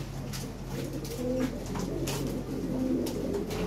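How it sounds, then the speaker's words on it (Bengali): Lahori pigeons coo softly and repeatedly, low rolling calls from several birds close by, over a steady background hum with no talk. "আর সুন্দর সুন্দর কবুতর আছে, দেখেন অনেক লাহোরি আছে"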